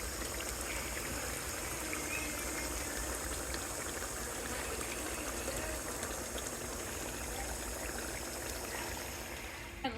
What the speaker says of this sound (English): we're going to drain all this oil off of it that it's making